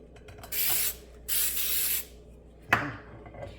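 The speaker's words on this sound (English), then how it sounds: "spray this in here so it doesn't stick" Two steady hissing bursts of non-stick baking spray into a pan, each under a second, followed by a metallic clunk as the can is set down nearby.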